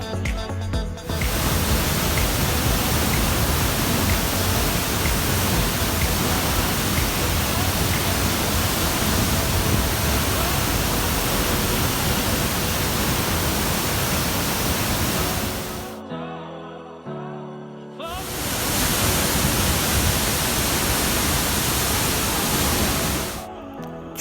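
Nungnung Waterfall in the forest roars as a loud, steady rush of falling water, close by, briefly cut to near silence before resuming.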